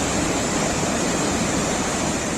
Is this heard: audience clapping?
no